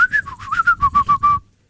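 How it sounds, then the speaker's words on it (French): A person whistles a quick tune of about nine short notes, close and clear with no other sound, ending abruptly. "Bon, moi je vais siffler aussi."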